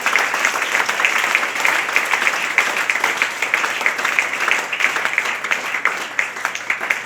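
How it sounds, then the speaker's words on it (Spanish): A church congregation applauds during a worship service, producing a dense, steady wash of clapping that holds at an even level for the full stretch without a break. "Dele ese aplauso en esta hora."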